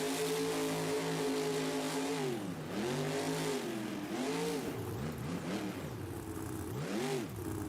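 Monster truck engine in an NRG Stadium freestyle event in Houston, loud and close, revving repeatedly with rising and falling pitch sweeps over a constant rumbling background.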